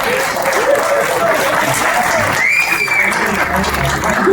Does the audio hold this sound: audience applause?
yes